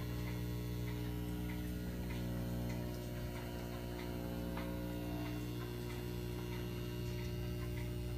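Replica of Ed Leedskalnin's magnetic generator wheel in a workshop: a low, steady electrical hum persists throughout, with faint, irregular ticking layered on top, and no voices.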